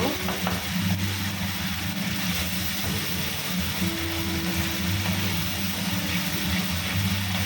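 Ground cumin and chilli powder sizzle and crackle steadily in hot oil in a pan while being stirred, a continuous close frying hiss with low kitchen hum and no talk.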